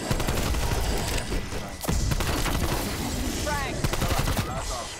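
Automated turret fire in Call of Duty: Black Ops Cold War, a dense, continuous fusillade of rapid gunshots and crashing impacts that stays loud throughout, with a brief dip partway through.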